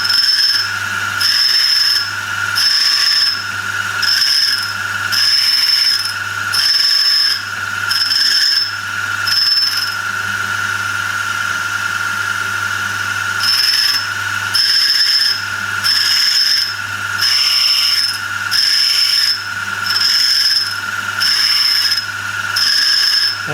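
A grinding wheel sharpens a countersink cutter with a rhythmic rasping hiss and a high ringing tone, in repeated pulses about a second apart. The sound is close and fairly loud, with a short lull in the middle before the passes resume.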